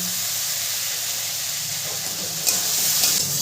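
A little water poured into frying spices in a pan hisses and sizzles steadily, a close, loud broadband steam hiss that swells briefly near the end.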